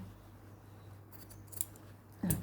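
Scissors cutting fabric while making a lotus-style collar, with a faint snip midway and a sharper, louder snip near the end over a quiet room hum.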